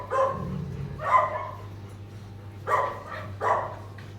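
Several dogs bark in short sharp bursts, two quick pairs of yaps separated by a pause, close and loud over a low steady hum.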